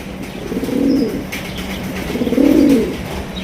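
A pair of large, deep red fancy pigeons coo twice in two swelling, throaty phrases, close by, with faint chirps in the background and no talking.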